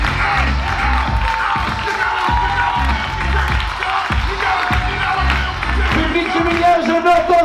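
A comedy club audience cheers and applauds for contestants: loud crowd noise with whoops, shouting and clapping, plus rhythmic stomping or beats underneath, sustained throughout with babble of voices mixed in.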